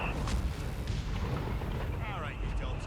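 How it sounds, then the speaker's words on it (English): Rumbling booms and gunfire from a Company of Heroes 3 battle with tanks and anti-tank guns, a continuous low, heavy roar of artillery-like fire with scattered sharper shots and whistling sounds, loud with a voice talking over it. "We're shooting."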